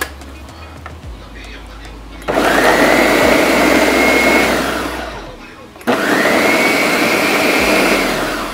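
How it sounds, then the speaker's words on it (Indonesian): A blender chops corn with a little oil in two loud bursts separated by a short pause, its motor whining steadily under a cooking setting, and a voice speaks briefly before it starts. "Langsung saja kita blender guys."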